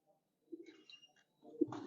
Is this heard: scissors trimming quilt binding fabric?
no